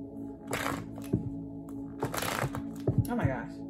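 Tarot cards being shuffled by hand at close range in bursts of riffling and crisp flicks, with a few sharp taps between them, and a voice can be heard alongside.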